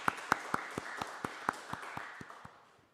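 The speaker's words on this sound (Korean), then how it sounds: "박수 한번 주시면 좋겠습니다." A church congregation at a Sunday service claps in a slow, even rhythm, about a dozen distinct claps spaced evenly and fading away over a few seconds.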